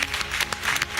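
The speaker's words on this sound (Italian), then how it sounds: "Un applauso all'Ocri per l'ottimo lavoro." Brief burst of audience applause during a televised semifinal of a makeup challenge show, a short, fairly soft patter of clapping with no talk over it.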